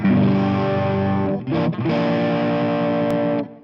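A distorted electric guitar chord rings out through a NUX NME-5 Trident multi-effects unit with delay and boost off, briefly cut and then sustained, loud and saturated with no voices.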